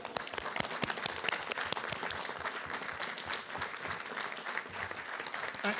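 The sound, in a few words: council chamber round of applause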